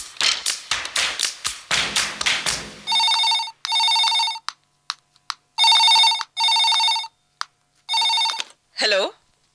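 A telephone rings in short repeated bursts of electronic trills, loud and clear, after a stretch of tapping and thumping noises at the start, with no voices over the rings.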